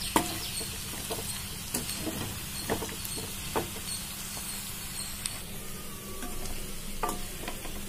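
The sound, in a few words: stirring and scraping chili masala in a pan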